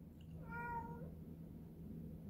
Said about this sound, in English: I'm sorry if y'all hear my cat in the background